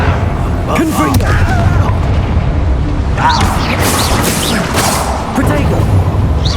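Confringo fire-blast spells explode in Hogwarts Legacy combat, a loud, continuous booming rumble with repeated bursts and crackling debris, overlaid by brief voice-like cries and effects.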